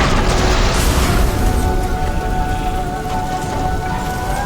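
Fire rains down during a machine battle in Horizon Forbidden West: a loud, dense burst of crackling impacts and booming rumble that thins to a sustained sizzling roar.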